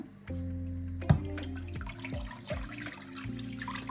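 Tap water running into a container to measure a litre for a tomato marinade, a close steady splashing pour with a few clinks of the vessel, alone with no talk.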